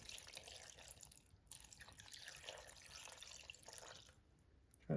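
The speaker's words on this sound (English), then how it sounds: "we're gonna take 2 cups of chicken broth, whatever chicken broth you want to use. Just pour it over the top of that." Chicken broth is poured over cabbage in a kitchen, making a soft, steady trickling and splashing that runs for several seconds with slight dips in level.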